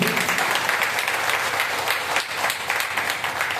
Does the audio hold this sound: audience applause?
yes